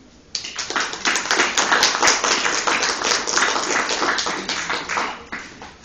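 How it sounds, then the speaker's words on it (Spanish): Conference audience clapping for a speaker starts abruptly and continues as a steady patter of individual claps, fairly close and uninterrupted, easing slightly near the end. "Aplausos, por favor."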